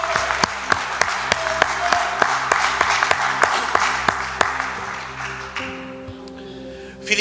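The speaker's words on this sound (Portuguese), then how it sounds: "Aplauda e glorifica o nome dele então" A church congregation claps together during a worship service, a dense steady wash of applause with sustained keyboard tones beneath that thins out and fades over the last couple of seconds.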